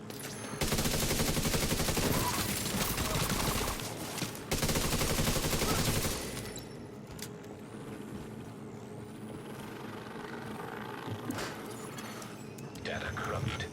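Deployed turret firing in The Division 2, a loud sustained burst of rapid automatic fire for several seconds, briefly breaking and resuming, then dropping to quieter game ambience.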